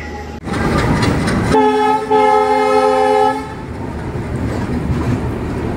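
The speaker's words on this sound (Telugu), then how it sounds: "బ్యూటిఫుల్ డీజిల్ లోకోమోటివ్తో షంటింగ్ జరుగుతుంది చూసారా" Diesel locomotive shunting near a Visakhapatnam–Kirandul passenger train, an engine rumble broken by one long, loud two-tone horn blast, then a steady idling drone.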